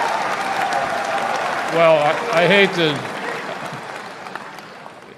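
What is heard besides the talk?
audience clapping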